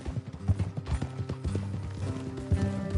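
Horses clip-clop along a road in the Red Dead Redemption 2 video game, a close, uneven rhythm of hoof strikes running through the whole moment, with faint game music or ambience underneath.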